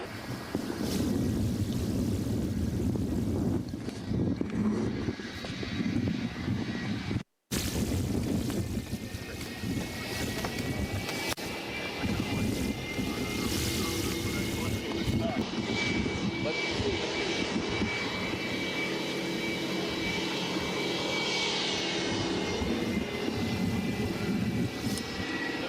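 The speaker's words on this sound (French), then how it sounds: "L'appareil qui pointe à l'horizon est la toute nouvelle acquisition du club" An MD-83 airliner approaches with a steady, loud engine roar and whine that persists throughout, broken by one brief cut, with wind noise and a voice talking over it.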